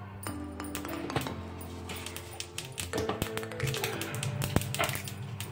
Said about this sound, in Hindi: देखिए इसमें राई डालेंगे हम।